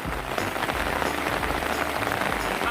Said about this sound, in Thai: แต่วันนี้บรรยากาศเป็นใจนะครับ ฝนตก